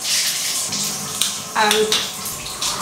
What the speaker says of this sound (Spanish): Voy a la ducha.